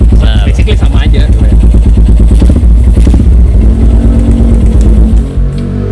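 A loud carbureted Suzuki Thunder 250 single-cylinder motorcycle engine idles and revs with a rapid, chugging thump, close by, settling briefly near the end.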